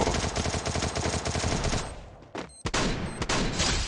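Rapid gunfire bursts in the Free Fire battle royale game, loud and dense, easing off briefly before more sharp shots resume, with no talking over it.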